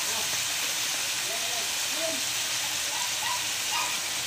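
Soy sauce poured into a hot pan of vegetables for pancit canton, giving a steady, loud sizzling hiss that runs unbroken throughout, close up, with no talking.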